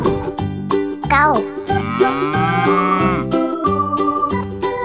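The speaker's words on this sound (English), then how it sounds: "Cow." A cartoon cow moos over a playful, loud children's music track, a single drawn-out low call amid bright melodic tones.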